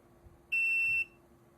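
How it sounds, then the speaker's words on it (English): A single sharp electronic beep from an INKBIRD water leak sensor gateway, loud and steady for about half a second, then it cuts off, leaving a quiet room hum. "There we go, that was the beeping."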